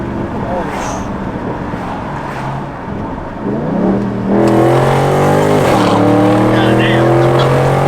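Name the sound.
widebody Dodge Scat Pack engine revving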